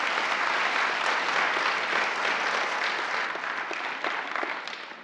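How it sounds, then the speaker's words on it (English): A meeting audience gives a warm round of applause for board members' volunteer service, steady many-handed clapping at moderate distance that gradually thins out toward the end. "Can we give a round of applause for the volunteer service?"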